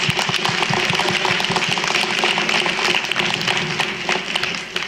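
An audience at a school board meeting claps for the school's drum club and ukulele club, a steady wash of applause from many people that holds evenly and fades slightly at the end.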